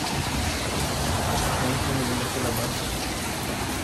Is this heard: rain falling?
yes